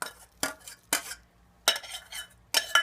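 A spoon stirring rice in a pot while making turkey dressing, giving several separate bursts of scraping and clinking against the pot, close and fairly loud, with quiet gaps between strokes and no talking.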